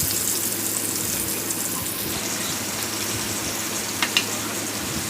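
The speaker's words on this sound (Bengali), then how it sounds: "প্রথমে পেঁয়াজ দেব।" Onions fry in oil in a wok, a steady close hiss of frying with a couple of small clinks near the end.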